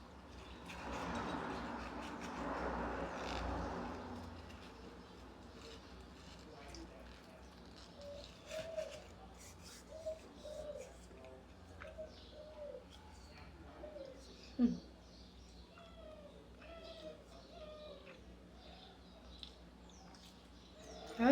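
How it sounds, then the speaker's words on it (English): Several short bird calls and chirps scattered through the recording, faint and at some distance, with a muffled voice murmuring near the start. "There are two different birds outside making noises."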